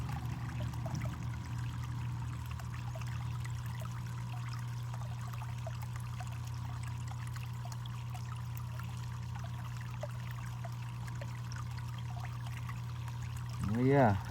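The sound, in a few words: water running through gold prospecting equipment with pump running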